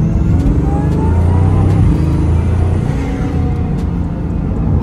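Smooth, steady engine drone from inside a moving Bugatti Chiron Super Sport hypercar, 1600 hp, a low rumble holding constant with slight rises, loud and continuous.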